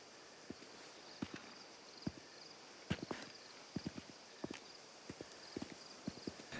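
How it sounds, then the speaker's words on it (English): A horse ridden in the video game Mafia: The Old Country walks with steady, clearly separated hoof clip-clops on hard ground, irregular in rhythm, close and moderately quiet over a soft ambient bed. "Now here's something I didn't expect in a Mafia game, which is horse riding."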